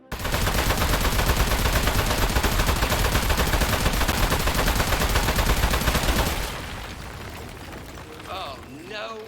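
Sustained rapid gunfire from a video game, Aperture Desk Job, pours into a boss for about six seconds as a loud dense stream, then drops away into quieter game sounds.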